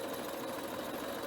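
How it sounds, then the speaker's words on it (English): Household sewing machine running steadily while stitching along a ripped seam, a continuous close mechanical whir with no pause or talk. "let's just keep sewing and see if it works"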